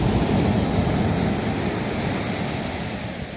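Sea waves wash continuously onto an uncrowded Konkan beach at Niwti, a steady broadband surf roar close by, slowly easing in loudness with no voices over it.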